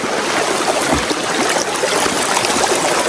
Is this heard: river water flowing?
yes